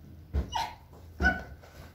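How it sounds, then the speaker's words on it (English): A dog whimpers and barks, wanting to be let into the room. Two short, close, sharp bark-whimpers come about a second apart over a quiet indoor background. "My dog wants to get in here"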